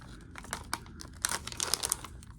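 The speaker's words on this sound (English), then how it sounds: "So we gotta open our foil pouch here." A foil pouch holding a medical test cartridge is torn open by hand, giving a few soft crinkles and then a busier burst of sharp crackling and ripping near the end, close and fairly quiet.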